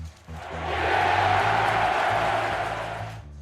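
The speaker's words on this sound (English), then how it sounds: "The crowd is going berserk. They're on their feet, cheering, stamping, spilling their tequila." Wrestling arena crowd roaring and cheering in a steady, dense wash of noise, with low rhythmic stamping thuds underneath, building quickly and holding loud for a few seconds before easing off.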